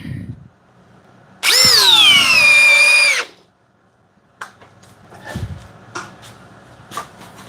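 A corded Metabo drill bores into new pressure-treated 6x6 lumber in one loud, steady burst of about a second and a half, its pitch sagging under load. It stops abruptly, followed by a few faint clunks and handling noises.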